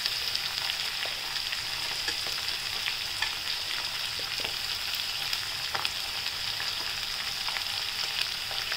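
Capsicum, beans and spring onion stir-fry for vegetable Hakka noodles, giving a steady, close, loud sizzle of frying with faint scraping of stirring throughout and no talk.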